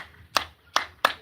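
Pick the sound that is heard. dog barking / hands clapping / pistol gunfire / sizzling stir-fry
hands clapping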